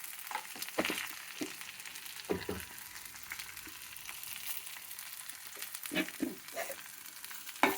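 Fried ivy gourd is stirred in a pan with chilli powder and coriander powder, a soft continuous sizzle broken by scraping stirs and spoon knocks, fairly quiet and close.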